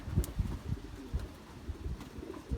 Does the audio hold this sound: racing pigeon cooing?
yes